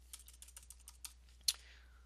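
Keys clatter on a computer keyboard while PHP code is typed, a quick run of light, close clicks followed by a single sharper, louder keystroke near the end, with no voices.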